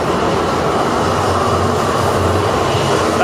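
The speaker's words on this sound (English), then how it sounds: "that's actually just one of the city trams." A city tram rolls past with a continuous loud rumble and hiss of wheels on rail, close and steady throughout with no speech.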